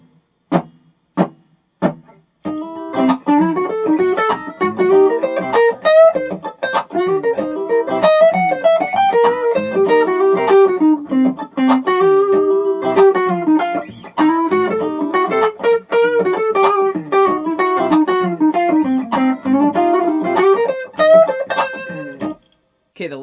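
Electric guitar plays a flowing minor pentatonic blues scale line over a dominant chord, with a few plucked notes first, then a continuous melodic run with bends and slides, clear and close with no talking.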